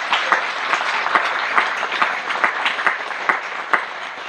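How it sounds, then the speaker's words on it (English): An audience applauds, a sustained wash of many hands clapping with sharper individual claps standing out, moderately loud and without speech. "Everyone give them a round of applause."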